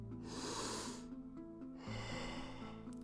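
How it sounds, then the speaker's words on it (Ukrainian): Deep, rhythmic breathing in the Wim Hof method: close, audible inhales and exhales through the nose and mouth, alternating in a slow, steady cycle with a faint tonal accompaniment underneath. "хвилоподібне плавне дихання, вдих через живіт, в груди і видих"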